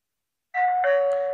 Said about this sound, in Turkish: Bu şekilde bir ses veriyor ve bu kapı zili işte.